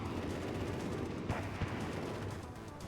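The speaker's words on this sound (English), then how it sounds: "tanks are unloading on them. These tanks have the heavy machine gun and the medium machine gun" Tanks unload heavy and medium machine guns in the WARNO strategy game, a dense, continuous rumble of gunfire with a couple of sharper heavy reports rising from the steady barrage.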